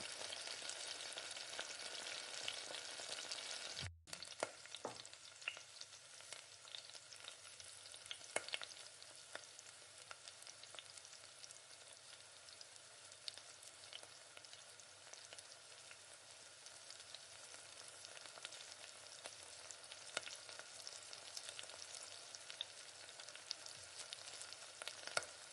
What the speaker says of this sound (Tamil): வெங்காயத்தை நல்லா வதக்கி விடுங்க